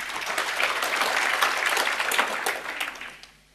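A church congregation claps during a sermon, a loud, full burst of applause that holds steady before tapering off and fading out near the end.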